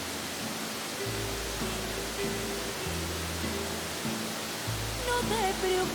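A waterfall flows through primeval forest near the upper reaches of a falls in Mexico, giving a steady, even broadband rush that runs the whole time beneath music with singing.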